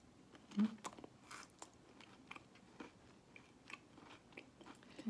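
Crispy homemade biscuits being bitten and chewed up close, with soft crunchy bites and a quiet, irregular rhythm of mastication and no talking.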